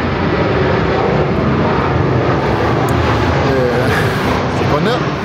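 An airplane flying overhead makes a loud, continuous engine roar that fills the whole stretch, with a person talking underneath it.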